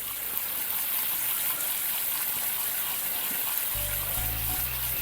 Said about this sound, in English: you'll want to really rinse it really good with cold water.